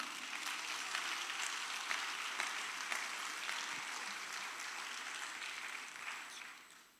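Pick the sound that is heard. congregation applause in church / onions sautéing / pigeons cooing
congregation applause in church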